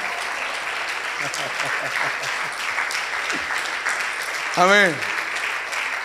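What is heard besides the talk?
congregation applauding in church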